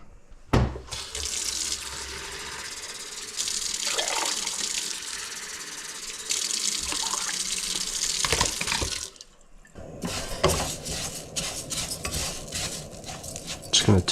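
Water runs steadily from a kitchen tap into a pot for rice, a continuous rushing stream with a short break partway, then resuming with clinks of cookware, no talking.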